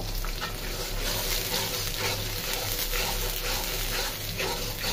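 Ginger, garlic and onion paste sizzling in hot oil in a pan, a steady close frying hiss throughout with a constant low hum beneath.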